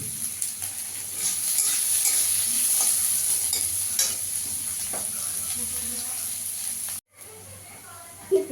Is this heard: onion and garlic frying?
yes